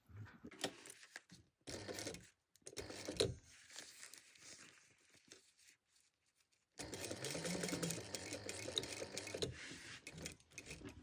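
A sewing machine stitches a lining seam at a quarter-inch allowance on a crossbody bag, running in short stop-start bursts of fast mechanical whirring with quiet pauses between, then one longer continuous run near the end.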